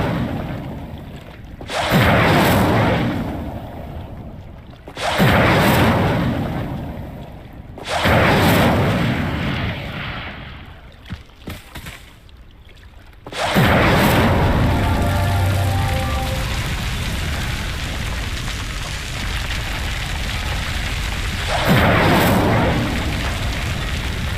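An Incendio fire spell is cast again and again in Hogwarts Legacy. Each cast gives a loud whooshing, roaring burst of flame, several in a row a few seconds apart, then a longer crackling burn.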